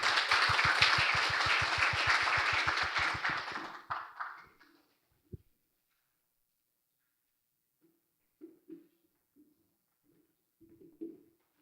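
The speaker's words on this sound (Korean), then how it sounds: "여러분 박수로 모시겠습니다" An audience at a panel talk on AI applauds for about four seconds to welcome the speakers. The clapping then fades out, leaving near silence with a few faint, scattered small sounds.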